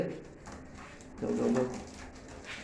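Soft cooing from a single male pigeon at a pigeon farm rises briefly in the middle, close and low, amid quiet rustling and a murmur of speech.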